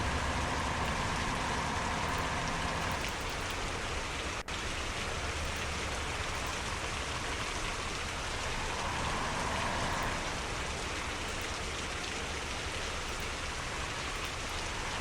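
Steady rain drums on a truck in the driving game Truckers of Europe 3, a dense hiss with a low engine rumble underneath that eases after a few seconds and continues alone.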